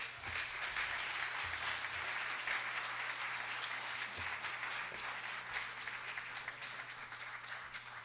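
An audience applauds presenters at a talk on consciousness and science, a dense, steady wash of many hands clapping that fills the whole stretch and thins slightly toward the end.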